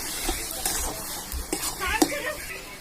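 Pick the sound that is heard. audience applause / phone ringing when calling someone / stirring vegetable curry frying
stirring vegetable curry frying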